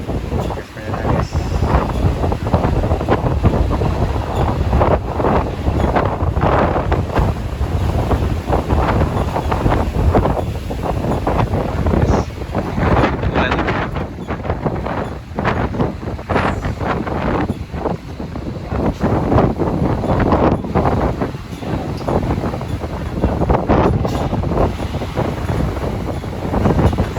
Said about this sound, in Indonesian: Tuh anginnya.